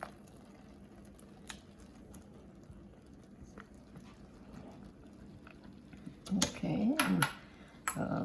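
Chickpea curry being served into dishes, mostly quiet at first, then a cluster of close scraping and clinking of utensils against dishes near the end, with no talk.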